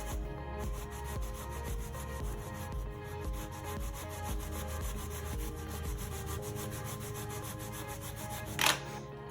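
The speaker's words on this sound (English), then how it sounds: "especially now that you're grating" Sweet potato grated by hand on a grater, a fast steady rasping rub repeated in even strokes close by, ending with a brief louder scrape near the end.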